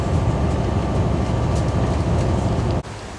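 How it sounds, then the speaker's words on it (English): A train on Adelaide's Port Line rumbling steadily nearby at a junction, a dense continuous roar of rolling wheels that cuts off abruptly near the end. "This is a train on the Port Line, which is about to go over the original junction."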